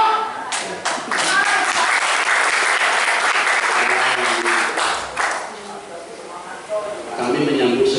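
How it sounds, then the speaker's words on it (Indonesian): An audience at a Golkar party regional office event in Jember applauds with steady, dense clapping for several seconds, easing briefly before picking up again, with voices mixed in. "Tepuk tangan, tepuk tangan."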